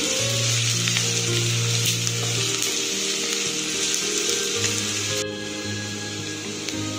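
Sliced onions frying over a high gas flame, a steady loud sizzle that runs unbroken throughout with faint stirring clatter, no talking.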